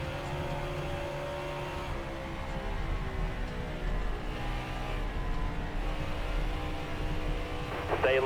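A race car engine in the NASCAR Heat 5 video game, held at a steady droning pitch with throttle swells and slight dips, a continuous moderate roar of the field running close together, no talking.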